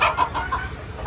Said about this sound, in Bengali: আমি খাবার দিব আর কি ছাদের যে মুরগিগুলো আছে ওগুলোরে